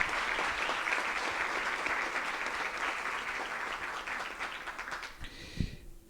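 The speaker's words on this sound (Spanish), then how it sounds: "Y yo pediría un fuerte aplauso para los participantes de este importante evento" A crowd at a national adolescent participation event applauds the participants, with even, sustained clapping that holds steady before fading and stopping at the end.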